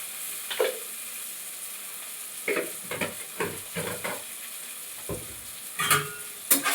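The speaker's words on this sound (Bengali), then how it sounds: "সব একটুখানি কষিয়ে নেব নাড়াচাড়া করে।" Tomatoes with chili powder, Kashmiri chili powder and sugar fry in a pan with a steady low sizzle, while a spatula stirs and scrapes in short, irregular strokes close by.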